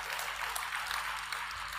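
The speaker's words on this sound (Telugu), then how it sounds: "అర్థమయ్యే చప్పట్లు కొడుతున్నారా?" A church congregation claps during a sermon, giving a brief, steady patter of applause heard at a distance with no talking over it.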